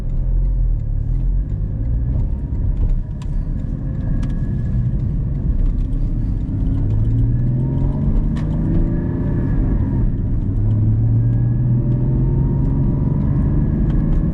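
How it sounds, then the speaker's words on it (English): Porsche GT4 flat-six intake and exhaust noise while driving in sport mode on rough roads, a steady loud engine drone with rising and falling tones as the car accelerates and shifts, no voices over it. "I think also you can hear a lot of the intake noise, and then of course the exhaust"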